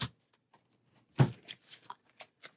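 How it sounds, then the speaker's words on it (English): Hero cards from a Marvel Champions card game are shuffled in a few quick riffling bursts, the loudest near the middle, followed by light scattered card flicks close by, with no talking. "we'll give his hero cards one final shuffle"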